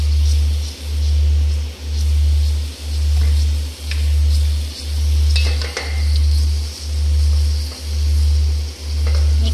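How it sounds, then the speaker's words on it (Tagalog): Eggplant cooking in a pan with black sauce added, stirred with utensils that scrape and clink against the pan over a steady sizzle, while a loud periodic hum throbs throughout. "at saka lagyan na natin siya ng black sauce"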